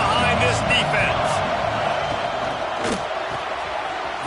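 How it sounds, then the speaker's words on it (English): Football stadium crowd roaring in support of the defense on a big third down, a dense, loud, sustained wall of cheering with a commentator talking over it. "Big 3rd down as the crowd gets behind this defense."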